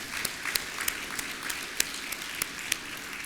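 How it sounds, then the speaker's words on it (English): An audience at an opening ceremony applauds a guest's family, a steady patter of many hands with sharper individual claps standing out, moderately distant and fairly quiet throughout. "Let's give an applause to the family."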